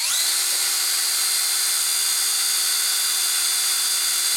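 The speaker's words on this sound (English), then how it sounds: "And we're going to pre-drill holes here in this." Power drill with a 7/64 drill bit pre-drilling holes through a metal adapter and stove, a steady high-pitched whine held close and loud throughout, with no speech.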